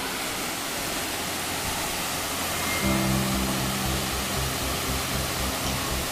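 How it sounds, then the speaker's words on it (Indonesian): Takapala waterfall in Tinggi Moncong, Gowa, Indonesia, roaring as a steady broadband wash of falling water, loud and continuous, with a low engine-like hum entering midway. "air terjun Takapala, Kelurahan Bontolerung, Kecamatan Tinggi Moncong, Kabupaten Goa"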